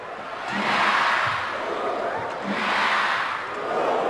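Arena crowd at a badminton men's singles final in Indonesia roaring and swelling in waves, a broad sustained cheer that rises and falls, heard from a distance.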